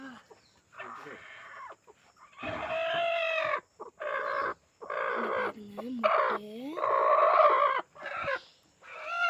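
A brooding hen clucks and croaks close by in a series of drawn-out, throaty calls with short pauses between them, and a person speaks faintly at times.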